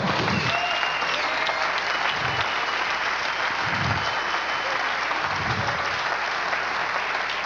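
A congregation at a spiritual warfare church service gives a strong, steady round of applause, a dense, even roar of clapping with occasional low thumps underneath.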